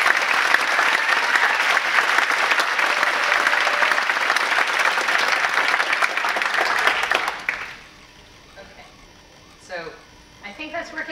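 An audience applauds a speaker at an Ignite talk, with loud sustained clapping for about seven seconds before it fades and a voice begins speaking.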